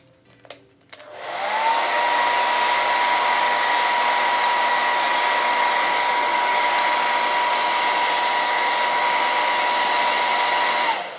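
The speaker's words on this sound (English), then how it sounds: "blow dryer." After a few clicks, a hair dryer switches on and blows with a steady, loud whooshing hum for about nine seconds before winding down.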